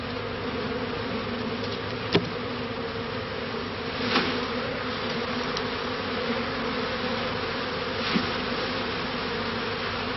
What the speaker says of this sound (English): Now I'm going to try and encourage these bees to stay in the hive by placing the queen bee in there.